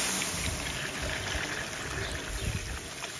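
Water poured into a pot of pork knuckle goulash outdoors, a steady close splashing trickle with a broad rushing hiss that continues for several seconds without talk.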